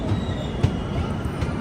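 Kondaveedu Express pulling out of Sri Sathya Sai Prasanthi Nilayam station, heard as a steady low rumble and rattle of the moving train with faint wheel noise throughout.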